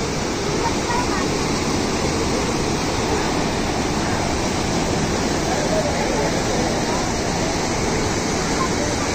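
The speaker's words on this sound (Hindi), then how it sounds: "बहुत तगड़ी तरीके से पानी आ रहा है पहाड़ों का" Loud, continuous roar of floodwater rushing down from the mountains along the Gola river near Haldwani, dense and unbroken throughout, like a powerful torrent close by.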